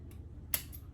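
Scissors snip through a monstera adansonii stem in a single sharp, close cut over a faint low hum, with a softer click just before and after.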